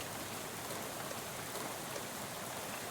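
Rain falls at night in Shadows Over Loathing, a steady, even hiss of dense rainfall with no let-up, heard alone.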